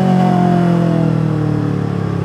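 A Yamaha MT25 motorcycle exhaust rumbles loudly and close in a single sustained rev with a steady throaty drone, no voices over it.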